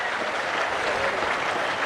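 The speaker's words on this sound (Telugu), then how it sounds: "గట్టిగా చప్పట్లు కొట్టి ఆయన అభినందించండి." Audience applause at a public meeting with Chief Minister Chandrababu Naidu in Kaikaluru, a dense, steady burst of many hands clapping at moderate distance throughout.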